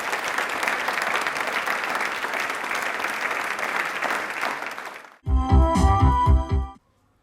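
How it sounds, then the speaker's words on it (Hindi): An audience applauds yoga performers at a televised quiz show, dense sustained clapping for about five seconds, followed by a burst of loud music. "तालियां प्लीज एक बार जोरदार हो जाए इनके लिए"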